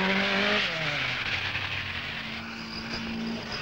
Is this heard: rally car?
yes